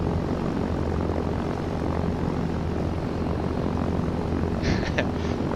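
Steady propeller aircraft engine drone in flight from Arma 3, a continuous loud hum holding level throughout with a brief higher whine near the end, no talking.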